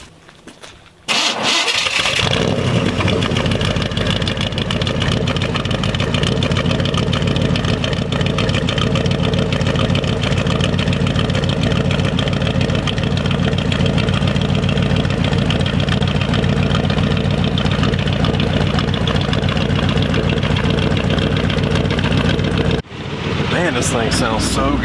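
A 1959 Chevrolet Apache truck engine cranks, catches after a second and settles into a loud, steady idle that runs for about twenty seconds, then briefly dips near the end with talk around it.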